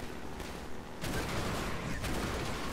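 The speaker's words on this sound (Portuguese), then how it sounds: "Quem tá me atirando?" Rapid bursts of gunfire from the video game Half-Life 2, a steady loud fusillade that jumps in intensity partway through, continuous with no pauses.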